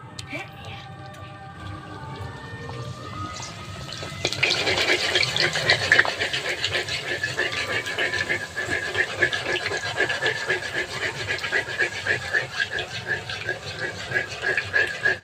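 Raw puchka (fuchka) dough rounds slipped into hot oil set off a sudden, loud, close hiss about a third of the way in, then a steady dense crackle and sizzle of frying that carries on to the end after a quieter opening.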